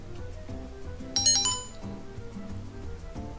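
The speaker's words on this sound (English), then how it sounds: "That was my phone. Its notification sound" A short bright chime from a phone notification rings out once over a quiet musical background, fairly faint and lasting under a second, with no talking.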